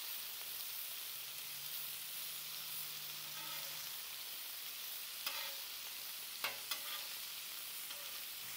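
Shrimp sear on a hot Blackstone griddle with a continuous, fairly quiet hiss and sizzle, broken by a few soft clicks and taps of a utensil.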